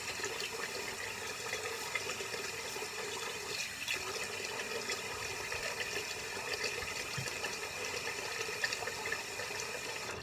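A Gillette Sensor 3 razor is rinsed under running water during a head shave, with a soft, steady splashing flow continuing throughout and no talk.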